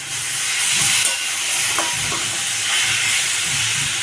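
Chopped tomato dropped into hot spiced oil in a home kitchen pan for a fish curry, giving a loud, steady hiss of sizzling that carries through the whole clip with no one talking.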